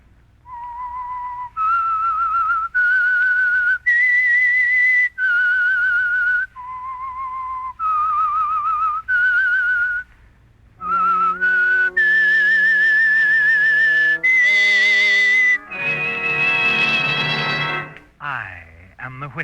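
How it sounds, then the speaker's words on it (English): A clear whistled melody of short held notes with pauses between phrases, the opening signal of the old radio drama The Whistler, followed by a brighter tonal musical passage that fades out. "That whistle is your signal for the Signal Oil program"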